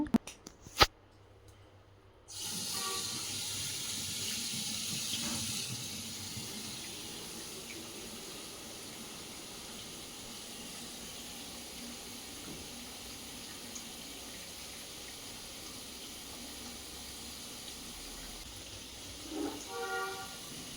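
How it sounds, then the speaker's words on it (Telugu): A kitchen sink tap is turned on and runs steadily, with water leaking out under pressure. The flow is a continuous, close rush that starts after a couple of clicks and lasts throughout. "సో ట్యాప్ ఆన్ చేసి ఒకసారి మీకు అయితే చూపిస్తాను"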